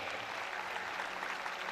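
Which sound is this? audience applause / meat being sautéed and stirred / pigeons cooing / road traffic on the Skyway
audience applause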